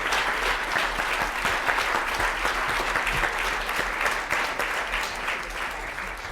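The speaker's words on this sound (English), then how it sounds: "So if you'll join me, please, in another round of applause for Scott for his participation." Sustained applause from an audience at a talk, a dense steady wash of clapping hands that holds at an even loudness throughout.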